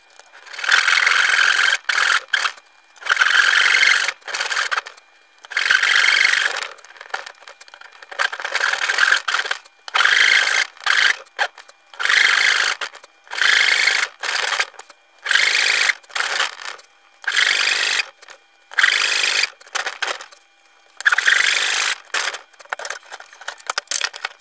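Repeated bursts of rasping and sawing as notches are cut into wood for a cigar box resonator ukulele, using a guide; roughly a dozen strokes of steady scraping with short pauses between, close and loud, no talking.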